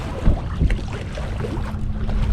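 A Hobie Pro Angler pedal kayak moves through sea water on the Solent, with low churning, sloshing water and wind buffeting the microphone, close and continuous with no talking.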